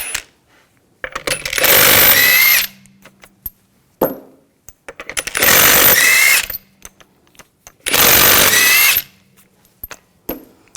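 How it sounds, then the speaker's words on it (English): Impact wrench spinning off lug bolts from the front wheel of a 2000-2006 BMW X5 with a 19mm socket: three loud sustained whirring bursts of about 1.5 s each, separated by short clinks and handling noises. "We're going to remove the wheel, use a 19mm socket. Take the lug bolts off."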